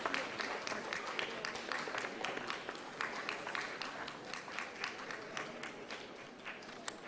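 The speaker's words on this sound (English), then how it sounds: "So please give her a huge round of applause" Audience applause fills an award ceremony for the National Eye Donation Fortnight at the RP Centre of AIIMS, a steady, even patter of many hands clapping at moderate distance for several seconds.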